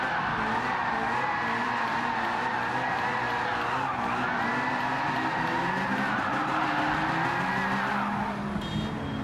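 A TVR fitted with a 1000hp LT5 V8 drifts in Gran Turismo 7, its tires squealing in long, loud, wavering howls over a steady engine roar, with no one talking.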